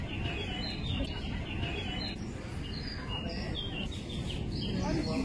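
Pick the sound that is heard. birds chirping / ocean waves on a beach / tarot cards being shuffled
birds chirping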